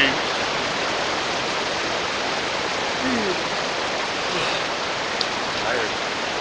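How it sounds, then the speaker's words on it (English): Rain falls at a wilderness campsite in Cache Creek Wilderness, a steady soft hiss of drops throughout, with faint distant bird chirps faintly audible in the background. "It started to rain."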